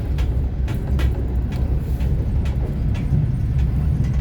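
A train on the way to Samarkand rolls along with a loud, steady rumble, and faint rhythmic clicks of wheels over rail joints come roughly every half second, heard from inside the carriage.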